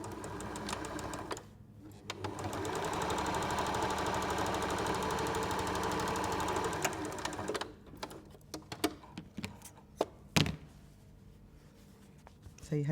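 A sewing machine stitching quilt squares together for a chequerboard quilt block runs in a steady, fast, close whirring burst for several seconds, then gives way to short clicks and handling noises.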